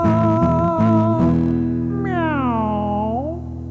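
A human voice imitates a cat's meow, sung in a drawn-out, wavering tone with rising and falling pitch, loud and close after a sustained musical note.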